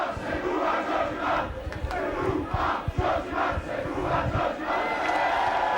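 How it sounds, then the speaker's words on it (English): A rugby league crowd at a Castleford versus Leeds match in the mid-1990s chants loudly in unison to a football song tune, a steady rhythmic roar of many voices filling the stadium with no commentary over it. "sing the crowd to the tune of the Eric Cantona one"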